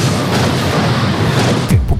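A large explosion tears through a building in a Korean firefighter and police TV drama, a sustained loud broadband roar filling the whole stretch with a sharper burst near the end.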